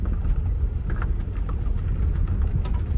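A car engine revs gently and steadily during a first-day driving lesson, a continuous low rumble with mild surges and background rattle throughout.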